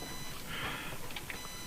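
Faint electronic beeps, a short run of high tones followed by a couple of brief blips, over a quiet hum.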